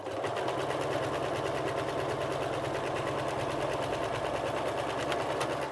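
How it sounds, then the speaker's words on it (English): A sewing machine stitches fabric for a Christmas gift bag, a steady, even mechanical whir running without pause throughout. "We're going to sew that close to the edge,"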